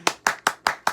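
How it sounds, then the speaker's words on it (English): A few people clapping together, five sharp distinct claps at an even, quick pace across one second, close and moderately loud with no talking. "Everybody clap."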